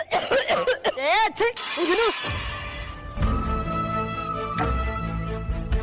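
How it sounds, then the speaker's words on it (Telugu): A few harsh coughs burst out amid strained vocal sounds, then give way to a steady background hum with faint tones. "దగ్గు"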